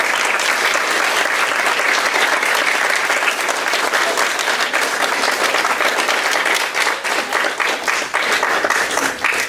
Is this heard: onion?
no